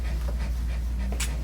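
An old blind dog pants in quick, rhythmic breaths while being groomed to work out matted knots, close and moderately loud over a low steady hum, with a brief sharp hiss near the end.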